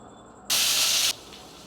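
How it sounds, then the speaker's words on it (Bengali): A fish head rubbed with salt and turmeric drops into hot oil in a kadai, bursting into a loud, sharp hiss for about half a second before settling to a quieter sizzle. "তারপরে কড়াইতে তেল গরম করে মাথাটাকে খুব ভালো করে ভেজে নিতে হবে।"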